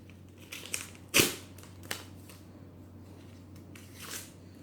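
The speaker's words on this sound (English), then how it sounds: "peel off the cover over the condensed milk" Paper cover being peeled off a can of condensed milk: a few short crinkling, tearing rips, one sharper and louder, then softer rustles, close by with no speech.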